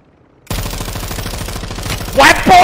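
A helicopter landing in the video game Warzone: a steady, loud rotor chop with rhythmic low thumping starts abruptly and continues throughout, with players talking over it near the end.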